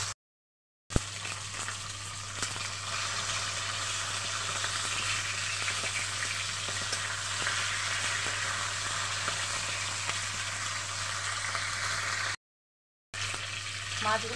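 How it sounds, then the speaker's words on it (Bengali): Two hilsa fish heads rubbed with salt and turmeric frying in a little oil, a soft even sizzle with faint crackles lasting several seconds and broken by two short silent gaps. "ইলিশ মাছের 2টো মাথাকে নুন হলুদ মাখিয়ে রেখে দিয়েছিলাম, এই দুটোকে আমি ভেজে নেব।"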